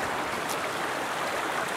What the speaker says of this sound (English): All right, crossing the water.